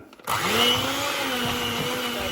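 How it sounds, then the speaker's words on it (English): Churro batter with four eggs being whisked, a steady mechanical whirring drone that starts abruptly and holds at an even, fairly loud level without a break. "give it a good whisk for a couple of minutes"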